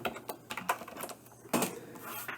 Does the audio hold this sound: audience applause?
no